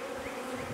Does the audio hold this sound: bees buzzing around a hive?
yes